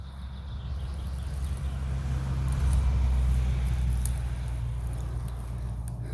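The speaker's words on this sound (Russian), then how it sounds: "Только вышли на дорогу, и машина." Car driving along a road through a forest in the Chernobyl exclusion zone, a moderate tire-and-engine rumble that swells and fades as it passes, with no talk.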